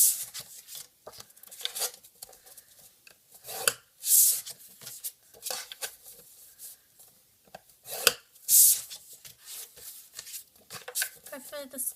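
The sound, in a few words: scoring paper on a Stampin' Up scoreboard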